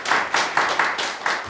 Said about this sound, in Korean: 여러분 우리 박수 한번 칩시다.